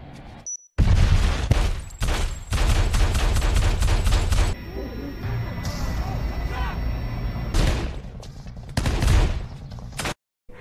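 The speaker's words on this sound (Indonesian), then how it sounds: "Baku tembak antara agen CIA dan para teroris tidak dapat lagi dihindari." Heavy gunfire from a film shootout between CIA agents and terrorists, with dense bursts of automatic fire, booming impacts and chaotic action noise filling the scene, loud and continuous with brief gaps.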